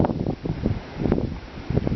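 Strong gusty wind blows outdoors at an off-grid RV site, coming as buffeting whooshes and rumbles that swell and ease over a couple of seconds, close to the microphone.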